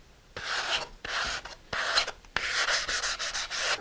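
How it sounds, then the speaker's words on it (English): Helicopter rotor blades being hand-sanded during Heli-Roc kit assembly, a close, steady rasping rub in several bursts with short pauses between strokes, no talking. "Okay, I've sanded the blades."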